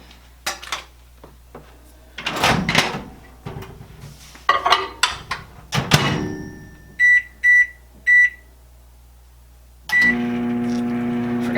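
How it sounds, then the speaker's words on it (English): Kitchen clatter and a door shutting, then three short electronic beeps, followed by the steady low hum of a microwave oven running for about 20 seconds while making peanut butter cheesecake. "we'll put that into the microwave, about 20 seconds"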